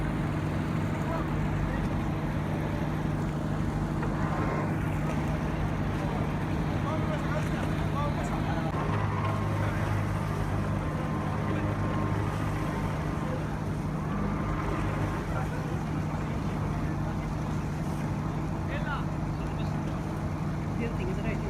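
The steady drone of a motor hums at sea as a red high-speed powerboat carries a rescued woman, with a voice talking over the continuous engine and wind noise.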